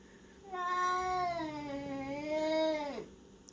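A cat lets out a single long, drawn-out meow that rises and then falls, close and clear over quiet room tone, in a home shared with a newly arrived cat.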